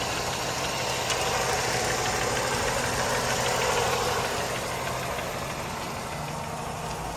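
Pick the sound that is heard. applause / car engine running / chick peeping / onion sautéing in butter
car engine running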